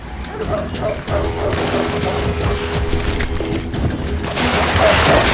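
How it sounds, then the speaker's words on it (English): Dog barking in the Western shooter game Call of Juarez: Gunslinger, a run of repeated yips and barks mixed into a dense, loud battle soundscape of gunfire and game noise. "Shut up, barking, you daft dog."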